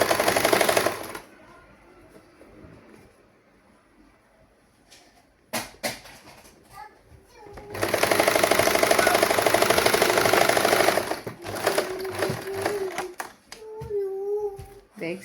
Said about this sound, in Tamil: இப்படி நாங்கள் நீட்டாக வச்சுட்டு நாங்கள் தைக்க வேண்டியது.